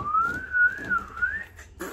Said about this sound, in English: Can you whistle? Let's try.